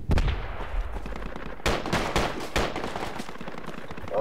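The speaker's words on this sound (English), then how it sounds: "Oh, we're taking fire now, taking fire." Gunfire in the military shooter game Project Reality during an urban siege of Beirut, with loud bursts of rapid automatic shots and sharp cracks, dense and continuous over a booming backdrop.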